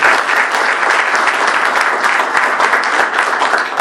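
An audience at a debate event gives dense, sustained applause that stays loud and even for the whole stretch.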